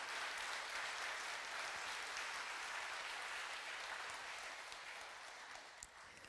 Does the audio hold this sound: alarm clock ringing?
no